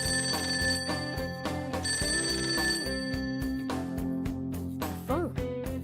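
A telephone rings repeatedly in the video game Persona 5: Tactica, loud bell-like trills over a steady bed of game music, with no talking.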